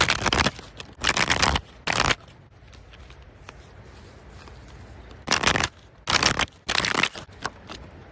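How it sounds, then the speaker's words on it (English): Tarot cards riffle in several quick, crisp bursts, separated by a quiet pause, close and fairly loud with no voices over them. "Let's shuffle your deck and see what is coming to you."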